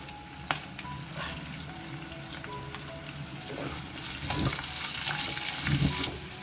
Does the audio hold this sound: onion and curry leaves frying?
yes